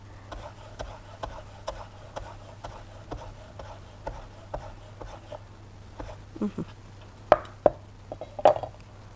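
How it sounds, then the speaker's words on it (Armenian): A knife chops fresh green herbs on a cutting board in a home kitchen, with evenly spaced crisp strikes at a steady pace, followed by a few louder clattering knocks toward the end. "Մի հատ էս մեր կանաչիներից կտրատում ենք"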